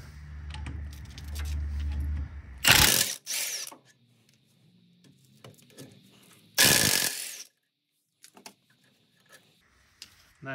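A hand ratchet clicks in quick bursts while loosening the 17 mm front brake caliper bolts on a Lexus GX470, two sharp loud spells of clicking separated by quieter clinks and handling of tools nearby.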